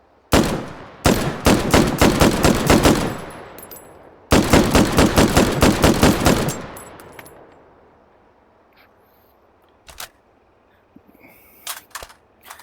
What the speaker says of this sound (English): This is the Browning automatic rifle, BAR.